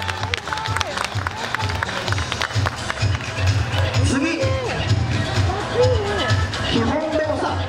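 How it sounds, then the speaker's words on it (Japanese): An audience claps and cheers after a slackline performer bounces on their back during a live show, continuous crowd applause under someone speaking loudly over it. "はい、皆さん拍手お願いします。"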